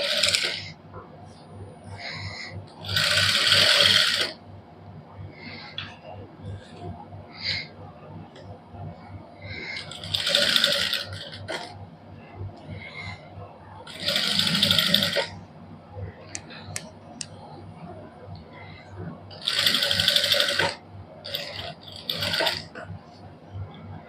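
A sewing machine runs a long basting stitch through suit fabric. Four or five short, whirring bursts of a few seconds each are separated by quiet pauses filled with faint handling noise.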